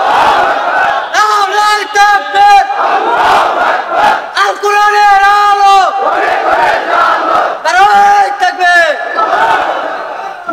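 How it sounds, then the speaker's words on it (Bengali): A large crowd at an outdoor religious gathering roars a takbir chant in repeated bursts, loud and close, with a lead voice calling between the collective shouts. "কি তাকবীর এবার কেমন জানেন?"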